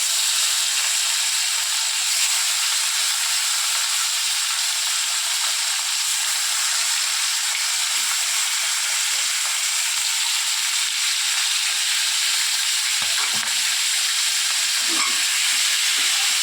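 Fish frying in hot oil gives a continuous, even sizzle for the whole stretch, with a few soft knocks of handling underneath.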